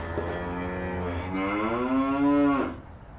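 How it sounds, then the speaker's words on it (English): A single loud, close cow gives a long moo that rises and swells before cutting off, heard on a grazing pasture with no talking over it. "Once the cattle become used to the system, they move very quickly and very easily."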